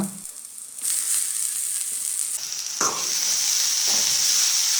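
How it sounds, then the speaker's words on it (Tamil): Grated carrot frying in oil with curry leaves for a carrot poriyal, a bright continuous sizzle that swells as the carrot hits the pan, with a couple of scraping stirs, close and without talk. "கேரட்டை சேர்த்து நல்லா எண்ணெயில் பரட்டி விடுங்க."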